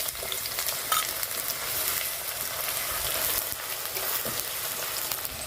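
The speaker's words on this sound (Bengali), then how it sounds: "এবার দিয়ে দেবো পেঁয়াজ কুচি," Chopped onion hitting hot mustard oil already tempered with cinnamon, dried red chilli and bay leaf. It gives a dense, steady sizzle with stirring scrapes, close and even, and no talk.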